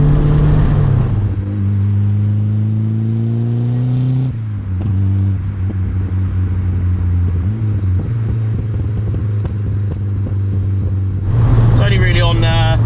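A 1985 Ford Escort Series 1 RS Turbo accelerates from inside the cabin. Its engine drones loud and steady and climbs in pitch through the gears, with a sharp rise in revs near the end.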